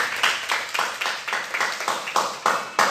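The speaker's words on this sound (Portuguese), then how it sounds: "terminamos hoje dando um forte aplauso ao nome do Senhor Jesus" A single person claps rhythmically and steadily close by, about a dozen sharp claps at an even pace, during a church service where the congregation is applauding.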